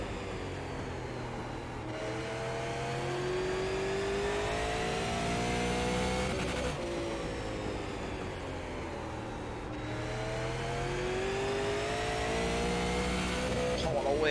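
A super late model race car in the iRacing game roars continuously, its engine pitch climbing and dropping in repeated sweeps through laps, loud and steady with a commentator's voice running over it.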